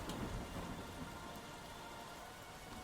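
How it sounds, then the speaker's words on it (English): Steady rainfall hisses throughout, with a low rumble of far-off thunder underneath; no voices. "The rain started to come down harder outside the window, and a rumble of thunder could be heard"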